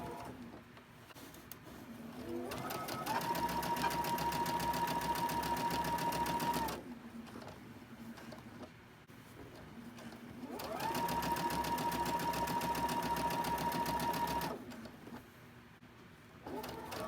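A sewing machine stitches quilt block seams in two long runs, a fast steady whirring hum with mechanical needle clatter, close by, separated by quieter pauses.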